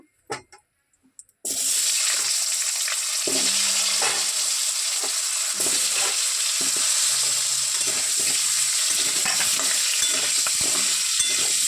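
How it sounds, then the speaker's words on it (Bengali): Potatoes dropped into hot oil in a pan after eggs were fried, near silence before a sudden loud sizzle that then holds steady and close, with occasional stirring scrapes. "এবার আলুটা একটু ভেজে নিই।"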